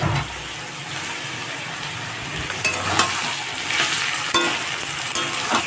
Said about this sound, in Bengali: সমস্তটাই ভালো করে ভাজা হয়ে গেছে